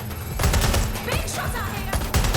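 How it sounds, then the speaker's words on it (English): Rapid automatic gunfire rattles through a firefight in Watch Dogs: Legion, loud bursts of shots stacked over game sound with no clear gaps. "Shots fired!"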